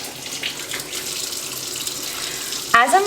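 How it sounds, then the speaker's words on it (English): Warm water runs steadily from a kitchen sink tap in a faint, continuous hiss, ending in a short sharp clunk and splash near the close. "put this in my sink and turn on a nice warm water"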